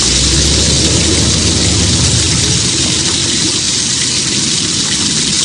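Heavy rain pours steadily in a horror film scene, a dense, loud, unbroken hiss of falling water that fills the whole moment, with faint engine-like rumble beneath and no voices.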